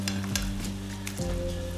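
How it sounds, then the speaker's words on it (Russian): Sausages sizzling as they are reheated in a frying pan, a continuous loud crackle with short stirring scrapes, no voices. "Сейчас разогреваем сосиски."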